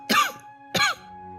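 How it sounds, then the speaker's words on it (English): Two short, sharp coughs from a character in the game Pillars of Eternity 2: Deadfire, close and fairly loud, spaced about half a second apart with quiet in between. "I hear people coughing in the back."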